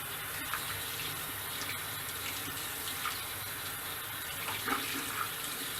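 Hot water running from a tap into a sink, a steady close splash and gurgle with small irregular spatters, no voices.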